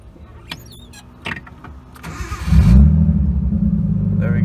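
A right-hand-drive Nissan 240sx engine cranks with a few clicks and whirs, catches with a loud rumble, then settles into a steady close idle, with no talk.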